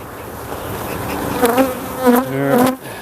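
Honey bees buzz steadily around an open hive during an inspection, a dense close drone with wavering pitches that swells several times.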